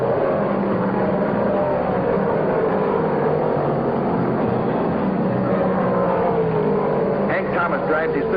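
A 1968 modified stock car at Martinsville racing out of the pits, a loud continuous engine drone with a gradually shifting pitch, heard under a narrator's voice.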